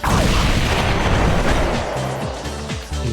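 Bomb explosion in the Viewtiful Joe game, a loud, dense booming burst that rolls on, then fades into lower rumbling with a few lighter thuds.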